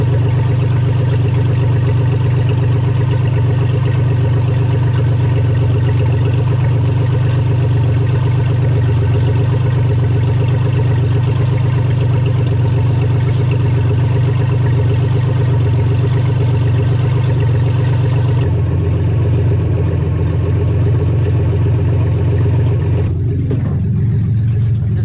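A car engine idles steadily and loudly up close after a radiator replacement, a constant low rumble that shifts slightly in tone near the end.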